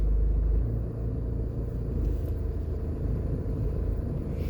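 A car moving off from a stop on a hill during a driving test at the Swallowfield examination depot in Jamaica, a steady low engine rumble with cabin drone throughout, fairly close and with no talking.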